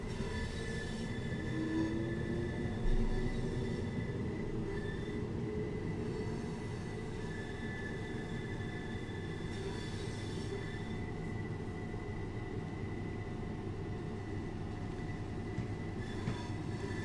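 A steady, low rumble of a train rolling along rails in Train Sim World 2, on the East Coastway route between Brighton and Eastbourne, with a faint metallic squeal and continuous wheel noise throughout.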